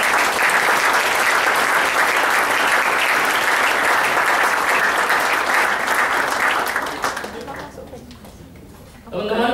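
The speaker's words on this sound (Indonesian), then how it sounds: "kita tepuk tangan dulu buat Dokter Danu." An audience gives a burst of applause for Dokter Danu at a talk, dense sustained clapping that fills the room loudly for about seven seconds before tapering off, with a voice speaking briefly afterward.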